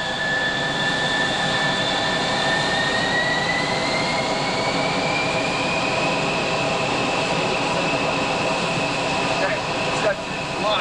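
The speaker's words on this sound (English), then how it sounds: "I'm gonna run the engine up to cool it off" An F-111E jet engine at RAF Upper Heyford roars loudly and continuously during a ground run-up, its high whine slowly rising in pitch as it spools up, with a brief clatter near the end.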